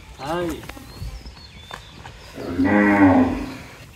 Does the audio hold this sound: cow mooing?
yes